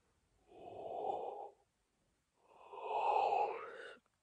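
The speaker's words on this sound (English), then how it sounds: "this is the 4th yawn and I need to sleep" Two long, breathy exhalations come close to the microphone, each rising and fading over about a second, the second one longer and more strained like a tired yawn, with no words spoken.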